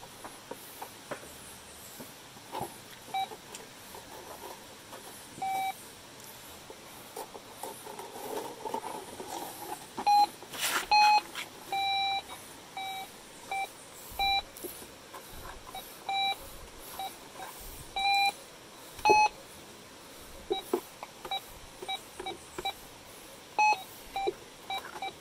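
A Gold Monster 1000 metal detector gives short electronic beeps in irregular bursts, some single and some clustered, over faint outdoor riverside noise with no talking.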